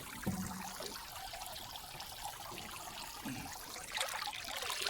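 Water from a cheap solar-powered pool filter splashes and trickles steadily into a stock tank pool outdoors, a continuous close bubbling wash with a few brief louder gurgles and no speech.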